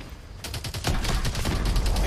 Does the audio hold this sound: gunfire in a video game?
yes